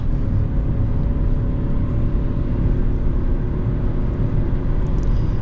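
A 2020 Fiat Egea 1.4 Fire LPG car engine drones steadily while driving at high revs, a constant, fairly loud hum mixed with road and cabin noise, with no speech over it.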